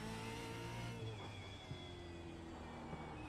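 A V8 Supercar engine drives a practice lap at Belle Isle in the iRacing simulator. It drones loudly and steadily with strong harmonic tones, and the pitch shifts as the car moves through the gears. No voices are heard.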